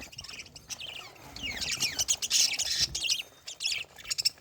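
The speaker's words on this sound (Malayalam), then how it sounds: "ഈ ലവ് ബേർഡ്സ് വരുന്ന കിളികളിപ്പം വരും." Pet lovebirds feeding chatter continuously with shrill chirps and squawks, close and lively, overlapping in rapid bursts.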